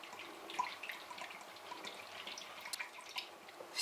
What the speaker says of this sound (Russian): Теперь берем стакан и сливаем кокосовую воду.